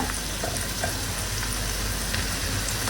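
Onions fry in a pan with a constant, dense crackling sizzle, close and even, without pauses for the full few seconds.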